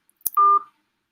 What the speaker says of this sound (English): Unmute your phone and join us.